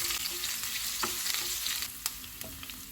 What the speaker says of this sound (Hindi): इसको 30 सेकंड तक फ्राई करेंगे